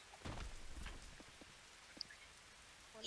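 Rain falls at a quiet, steady level, with scattered soft drops patting a surface and a slightly louder patter near the end, and no voices.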